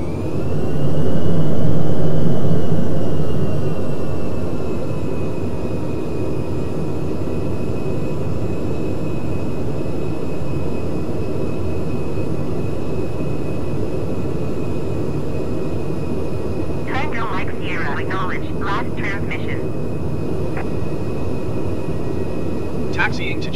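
Aircraft taxiing to general aviation parking in Microsoft Flight Simulator 2020, a steady engine whir and hum running throughout, swelling slightly at the start, with a brief burst of radio chatter near the end.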